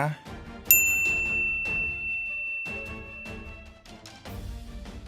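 A bright notification bell dings once, sharp and ringing, over a busy background music bed, with a few clanging percussive hits before and after.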